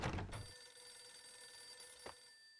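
A telephone rings in the Max Payne video game, a bright repeated electronic trill with sustained tones that fade out, followed by a short second burst, heard alone without talk.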